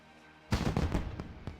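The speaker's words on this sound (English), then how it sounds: "it is annoying when the fireworks are all going off too" Fireworks in World of Warcraft burst suddenly after a quiet moment, a loud crackling pop followed by a flurry of smaller rapid bangs and crackles.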